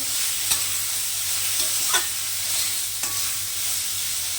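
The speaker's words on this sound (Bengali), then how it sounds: "ঢাকা দিয়ে দিয়ে ভেন্ডিটা নরম করে ভাজবো।" Okra frying in oil in a covered pan with turmeric, stirred now and then, giving a steady soft sizzle with a few sharp scrapes and clinks of the spatula against the pan.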